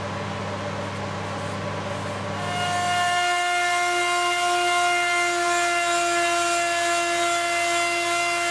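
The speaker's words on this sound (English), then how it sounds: "Cut that out on the bandsaw, and then I'll route it." A bandsaw cuts out a traced wooden jig piece for a guitar neck scarf-joint sanding jig; a steady whining hum with tonal lines grows louder as the blade bites into the wood, close and continuous.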